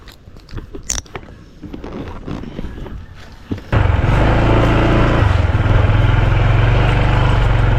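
A motorcycle rumbles to life and pulls away for a ride out of Camiling, Tarlac. Softer handling noises come first, then a loud, steady engine drone with wind roar holds close to the end.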